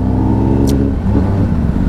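A superbike engine revs steadily and loudly close by on a street, a continuous throaty drone with a brief higher whine partway through, no talking over it.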